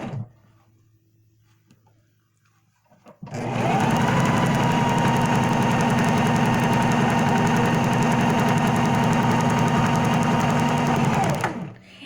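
A sewing machine stitches a pant leg in one continuous, loud, steady whirring run of about eight seconds, starting and stopping abruptly, after a brief quiet stretch with faint handling noises.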